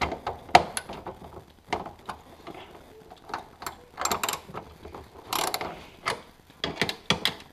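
Close ratcheting clicks of a hand wrench loosening the tail light nuts on a Pontiac G8, irregular short bursts of metallic ticks with quiet gaps between them.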